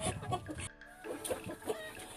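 A broody hen sitting in a farm nest box, with a duck beside her, gives soft, close clucks in a few short bursts.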